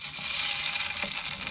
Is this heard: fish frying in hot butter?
yes